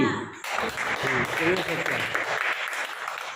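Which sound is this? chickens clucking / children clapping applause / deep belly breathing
children clapping applause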